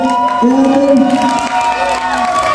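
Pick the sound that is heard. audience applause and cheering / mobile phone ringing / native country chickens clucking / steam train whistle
audience applause and cheering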